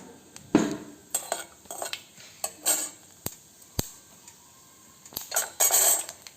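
Cinnamon, clove and fennel frying in a little oil in a kadai for broken wheat pulav, heard as faint sizzling broken by a few sharp ladle clinks and scraping stirs against the pan, with no talk.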